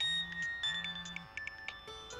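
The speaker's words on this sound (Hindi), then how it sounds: "किसका फोन है?" A mobile phone ringtone plays during a drama scene, a short electronic melody with repeating high beeps over a low buzzing tone, moderately quiet, with no voices.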